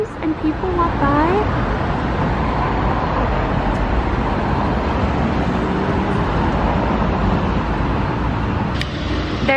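Street traffic rolling past in a steady continuous roar of passing cars, with a brief voice early on and a few faint clinks.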